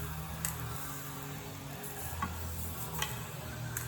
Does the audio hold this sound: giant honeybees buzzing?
no